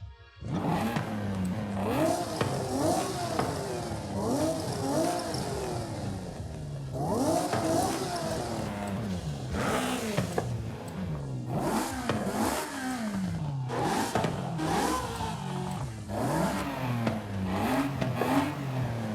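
A straight-six car engine in Forza Horizon 5 revs repeatedly, its pitch climbing and dropping through rapid gear changes in a continuous, loud, racing-game run with no talking over it.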